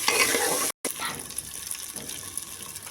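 Ginger paste being stir-fried in a pan for vegetarian khichdi, a continuous hissing sizzle with scraping stirring noises, close and steady apart from one brief gap, no speech.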